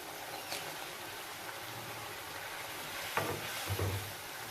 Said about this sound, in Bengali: এতিয়া মই ভাজি ল'ম পানীটো শুকাই নোযোৱা পৰ্যন্ত মই ভাজিম এনেকৈ লৰাই লৰাই